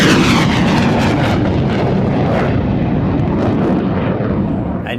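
A Hellenic Air Force F-4 Phantom jet arrives at the Royal International Air Tattoo, its engines roaring loud and close in a rough, continuous blast that eases slightly at the end.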